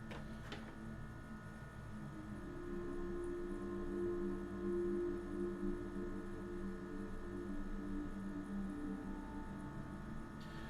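A room air conditioner hums steadily in the background, a constant low drone with faint mechanical buzz, alone without voices.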